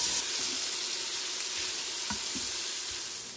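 Bacon fries in an Instant Pot, a steady broadband sizzle crackling throughout with a few louder pops and spits, close and continuous with no one speaking.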